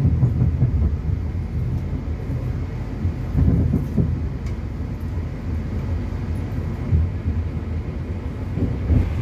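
Steady low rumble of the Jaka Tingkir economy passenger train in Indonesia rolling along the tracks, heard from inside with a constant mechanical drone.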